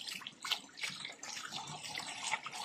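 Water gurgles and bubbles irregularly through a ram pump pipe as trapped air is purged, a busy, sputtering, boiling-like sound heard up close at moderate volume.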